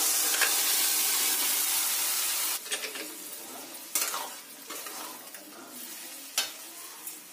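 Boiled lentils tipped into fried, oil-releasing spices in a pot, a loud sizzle that drops off as the lentils go in, followed by irregular stirring scrapes and clinks of the spoon against the pan.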